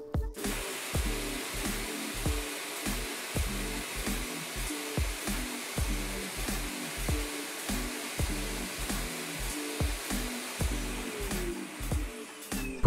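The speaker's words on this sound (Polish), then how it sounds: "Na koniec wystarczy odstawić odkurzacz na stację i nacisnąć przycisk opróżniania." Dreame Z10 Station dock auto-emptying the dust bin of a cordless vacuum, a loud, steady suction roar with a rapid pulsing rhythm, running alone for about thirteen seconds.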